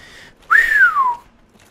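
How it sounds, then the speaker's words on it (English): A single loud, close whistle played straight into a microphone slides upward and then glides down for about half a second, alone against near silence. "Sorry about whistling straight into the microphone."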